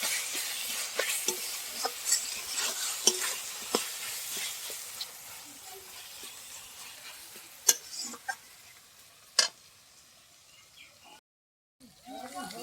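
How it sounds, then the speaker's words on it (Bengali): Tomato spice masala for a Bengali egg curry fries in a pan with a steady sizzling hiss, broken by scraping stirs and clicks, fading toward the end with a brief silent gap. "টমেটো মশলা সব ভালো করে কষিয়ে নিব"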